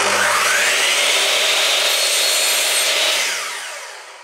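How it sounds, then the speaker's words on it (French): Steady, rasping strokes of a hand saw biting through wood, loud and close, continuous for several seconds before tapering off. "on va commencer à couper ça tout doucement à la scie"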